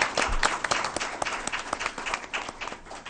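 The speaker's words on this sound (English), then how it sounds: "Let's give Lori a round of applause." At a school board meeting, attendees give a round of applause, a brisk burst of many overlapping claps close by, loud and continuous with distinct sharp hand strikes throughout.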